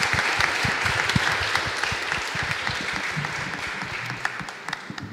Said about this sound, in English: one warm round of applause for our finalists